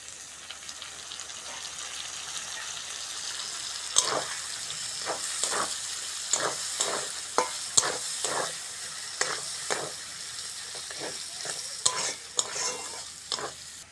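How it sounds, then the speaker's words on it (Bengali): Prawns fry with onions in a pan and are stirred steadily. A continuous sizzle runs under a series of scraping spatula strokes that quicken toward the end, with no voices. "পেঁয়াজের সঙ্গে চিংড়িটা ভালো করে ভেজে নিয়েছি"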